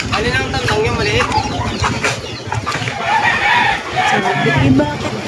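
A rooster crows and clucks nearby, loud and repeated, among other fowl noises, with people talking over it throughout.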